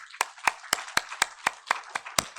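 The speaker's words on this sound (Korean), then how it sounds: "우리 하나님께 영광의 박수 올려드립니다." Church congregation at a Sunday worship service clapping together in steady rhythm, about four sharp claps per second, close and clear with little else behind them.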